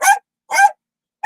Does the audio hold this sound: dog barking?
yes